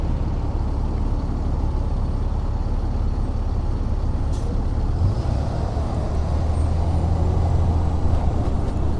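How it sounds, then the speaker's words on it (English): Heavy traffic rushes along a highway nearby, making a loud, constant roar and rumble with vehicles streaming past and no clear breaks or voices. "It's a bit noisy here out by the highway."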